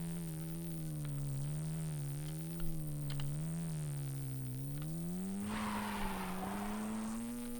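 A sustained tire squeal warbles over a steady droning engine as a car skids and drifts in the Mario Andretti Racing video game, loud and continuous, with a harsher scrubbing skid near the end.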